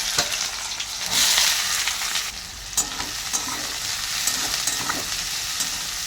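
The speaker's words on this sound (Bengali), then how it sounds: "পেঁয়াজটা একটু ভাজা ভাজা হোক" Onions sizzling and frying in hot oil in a pan, a steady loud crackling hiss with occasional stirring scrapes, no voices.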